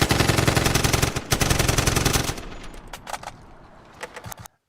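A loud, close burst of rapid AK-style machine-gun fire rattles continuously, then thins into a few scattered final shots before cutting to silence.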